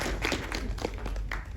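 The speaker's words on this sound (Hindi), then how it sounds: "ताली बजाओ" An audience claps at the official trailer launch of the film Heer Express, a brief, dense patter of many hands at moderate loudness with no speech over it.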